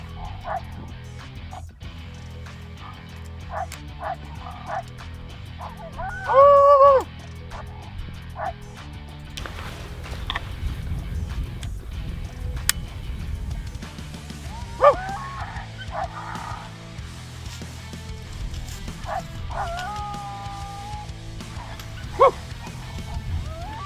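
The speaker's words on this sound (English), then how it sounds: "coyotes were howling right in front of us" Oregon coyotes yipping and barking at a distance in the open during a hunt, with scattered short high yips and whines over a low rumbling background, one louder burst partway through.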